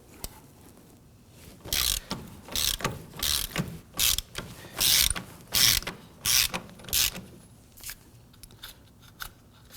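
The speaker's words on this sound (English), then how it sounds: "we're going to switch over to our ratchet" A ratchet turning a nut on the brake drum of a 2008-2011 Ford Focus: about ten short bursts of rapid clicking close up, separated by brief pauses, with no voices.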